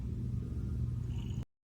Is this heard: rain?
no